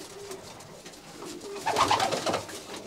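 Racing pigeons coo in a small loft, soft low warbling calls that swell louder toward the end, close by over a quiet background.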